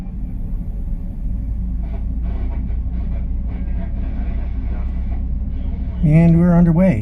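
An REM light-rail train pulls out of a station in winter, heard from the rear cab as a steady low rumble and rolling noise, then a rising electric motor whine near the end.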